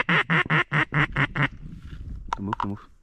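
On Summer Lake in Oregon during a duck hunt, a duck quacks six times in a loud, evenly spaced series, followed by a brief pause and then a few more close calls mixed with quiet voices.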